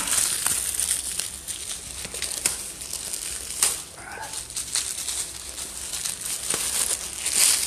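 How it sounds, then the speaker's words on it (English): Plastic wrapping crinkles and crackles as it is pulled off a Knights of Columbus ceremonial sword, a steady close run of rustling with sharper snaps scattered throughout. "I am going to take the plastic off"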